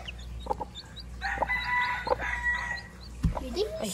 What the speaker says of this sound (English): Yeah. I hear a chick.